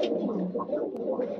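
Pigeons coo in a low, throaty, continuous warble close by, several overlapping calls filling the whole moment with a faint tick partway through.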